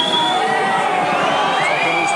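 Rugby league crowd at a St Helens versus Leeds match reacting to a Leeds penalty kick, with a loud, continuous mass of whistling, jeering and shouting that fills the whole moment.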